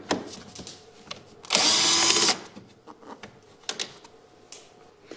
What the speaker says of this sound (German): Die Schraube mit einer 8er Nuss rausschrauben.